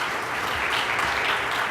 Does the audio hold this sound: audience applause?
yes